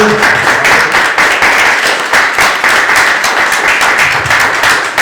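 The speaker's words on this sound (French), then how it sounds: "Voilà l'importance d'avoir applaudissé." Sustained audience applause at a gathering of mothers separated from their children, loud and dense, with individual claps pulsing in a steady rhythm throughout, no voices on top.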